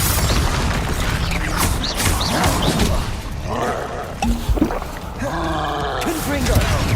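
Confringo blast spells in the video game Hogwarts Legacy during a duel: several loud booming fiery impacts amid clashing combat effects, with shouted voices mixed in.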